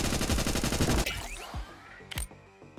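Rapid automatic gunfire from the video game Nimrods Guncraft Survivor, a dense burst of repeated shots for about a second, then scattered single impacts and blasts.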